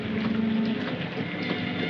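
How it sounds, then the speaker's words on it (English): Rain falls steadily in a 1945 film scene, a dense continuous hiss with a low car engine hum beneath. "It's raining."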